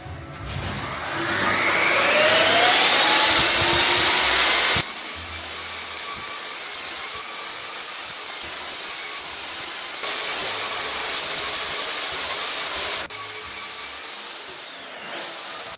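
Lime-based base coat render with fibres being mixed, a loud continuous motorised whine rising in pitch at the start, then a steady drone that holds at lower level to the end with no talk.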